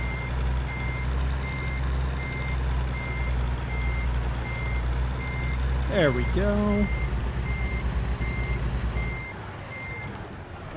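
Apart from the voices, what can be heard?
truck reversing while parking in American Truck Simulator video game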